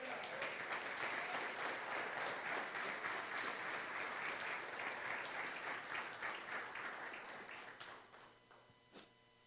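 A church congregation applauding during a worship service, sustained dense clapping from many hands that carries for several seconds and then tapers off into scattered claps.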